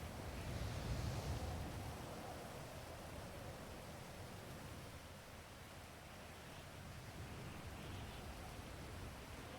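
Steady broadband rain hiss in a NoPixel GTA roleplay game world, constant and even throughout with no talk over it.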